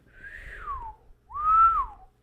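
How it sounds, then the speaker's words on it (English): A person whistles two notes alone: a long falling glide, a short pause, then a louder rising note that holds and drops off at the end, close and clear. "I can usually whistle pretty good these days"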